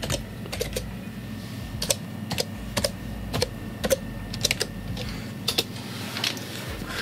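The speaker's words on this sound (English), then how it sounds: "make an ASMR of the keyboard so let's type" Close, clacky keystrokes on an old PC computer keyboard, typed in irregular bursts over a faint steady background hum, with no talking.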